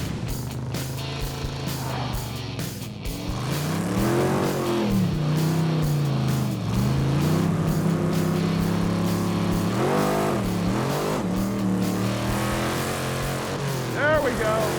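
A race truck accelerates hard, its engine note climbing and falling through revs, loud and sustained close to the microphone, with voices talking over it.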